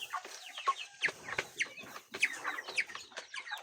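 Small backyard flock of broiler chickens clucking and chirping in quick overlapping bursts, fairly close, with no talk over them.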